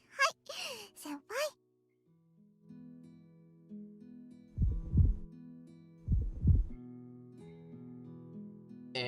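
Heartbeat effect in the Amakano visual novel: two slow, deep double thumps pulse over a soft background music hum, following a short burst of a voice at the start.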